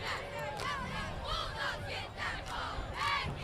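A crowd at a high school football game in Bulldog Stadium, Teague Lions against New Waverly Bulldogs, shouts and cheers in repeated bursts over a steady murmur, moderately distant.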